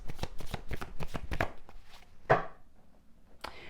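Tarot cards shuffled and drawn by hand: a quick rhythmic series of crisp riffling flicks, then a single snap of a card being pulled, close and clear with no talk.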